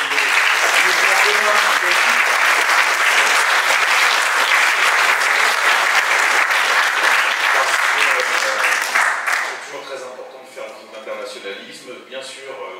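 Loud, dense applause from a political conference audience, at the UGR 2023 gathering, fills the first nine seconds, then fades into scattered clapping as a speaker's voice briefly returns.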